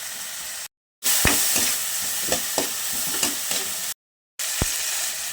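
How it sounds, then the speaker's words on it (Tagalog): Soy sauce sautéing in a hot pan for kangkong adobo: a steady close sizzle with stirring scrapes and taps, broken by two brief silent gaps. "mas masarap kung igigisa natin yung toyo"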